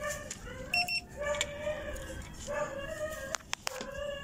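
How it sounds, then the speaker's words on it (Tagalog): Short electronic buzzer tones sound repeatedly from a TV box circuit board under repair, with shrill, sharp chirps and an uneven pulsing rhythm against a quiet background. "Buzzer na lang po. Buzzer."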